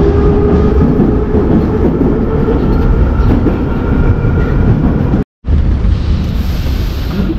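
A metro train rumbles loudly and steadily through a station in Novosibirsk, Russia, in winter, with a continuous rolling roar that drops out for an instant before resuming.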